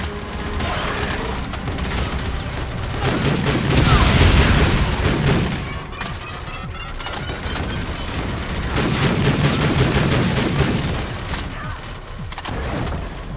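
Booming explosions and dense rapid gunfire from a sci-fi shooter battle on the Lunar Gateway in Call of Duty Infinite Warfare, loud and continuous with swelling blasts and mechanical clatter throughout.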